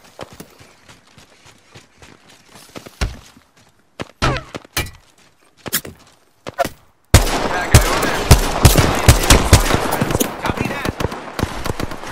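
Gunfire in the Apex Legends video game comes as scattered sharp shots, then turns into a dense, loud stretch of rapid firing in the second half.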